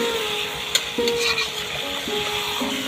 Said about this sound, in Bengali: দেখেন, এর তেল উঠে গেছে মশলা কষানোর পরে।